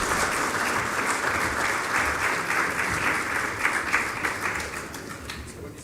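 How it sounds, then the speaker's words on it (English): A large audience at a Social Media Week panel in Mumbai gives the guests a big round of applause: loud, dense, continuous clapping from a crowd, steady throughout before easing slightly at the end. "ladies and gentlemen, big round of applause"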